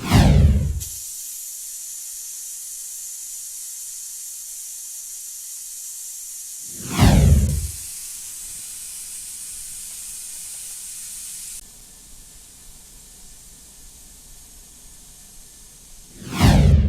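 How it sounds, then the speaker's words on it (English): Steam hisses out of a pressure cooker holding Cambodian beef tripe stew: a long, steady high hiss broken by three loud, sudden bursts, with no talking. "Let's start releasing the pressure."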